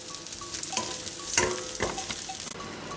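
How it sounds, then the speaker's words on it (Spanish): Bread fries in a pan for tomato soup, giving a faint, steady sizzle broken by a few soft stirring scrapes and clicks. "el pan fritito y doradito"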